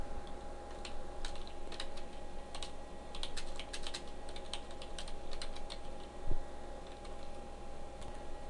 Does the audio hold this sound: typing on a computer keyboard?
yes